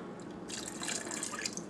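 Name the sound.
pouring almond fragrance oil into soap mixture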